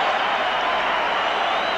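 A stadium crowd at a 1983 rugby league Test match between New Zealand and Australia in Brisbane gives a steady, loud, brief roar of cheering with no pauses.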